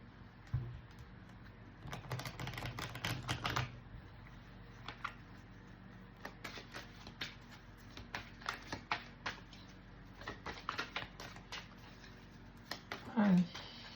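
Deck of oracle cards, the Oracle des Miroirs, shuffled by hand in a run of quick, soft papery riffles and taps at close range, with a steady low background hum throughout.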